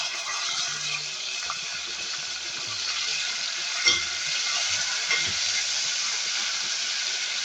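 Ginger and garlic paste fries in a pan with a loud, steady sizzle close by, punctuated by a couple of stirring clatters, with no talking.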